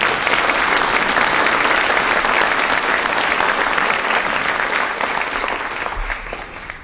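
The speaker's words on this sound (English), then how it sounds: "I would like to give this group of sponsors a round of applause for their support." A symposium audience gives a long round of applause for the event sponsors, dense, even clapping from a large room that holds steady and then gradually fades.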